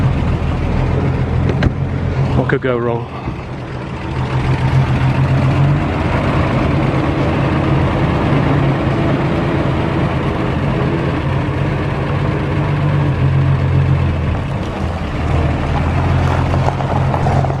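A 1940 Dodge truck engine rumbling as it pulls away in first gear, a heavy low-pitched drone that holds steady and close, with a brief clunk and a short spoken line near the start.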